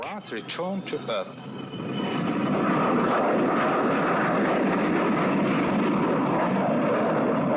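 A Tu-154 jet airliner escorts the Soviet Buran space shuttle as it comes in to land in 1988. A loud, steady jet roar builds up and then holds, after a few short sounds at the start.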